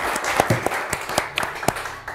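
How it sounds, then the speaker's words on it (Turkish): A studio audience at a Turkish television word game show applauds, with loose, fairly sparse claps rising as separate sharp hits over a short burst. "Alkışlarımızı kabul etmenizi rica ederiz."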